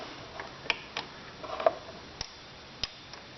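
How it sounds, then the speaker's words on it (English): An open-end wrench turns a bolt a fraction of a turn at a time on a Toro Personal Pace 20334 mower, giving faint, sparse metallic ticks and clicks spaced irregularly over a quiet background. "finishing up this top right hand bolt here, just keep switching this open end wrench around, going like a 12th of a turn at a time"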